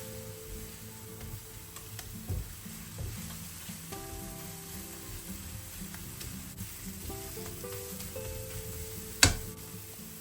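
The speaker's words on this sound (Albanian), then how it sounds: "do ta skuqim qepën për disa minuta duke e kavaditur herë pas here" Onions sizzle steadily in a pan over medium heat, with occasional scraping from stirring and a sharp clack of a utensil near the end; quiet, no talking.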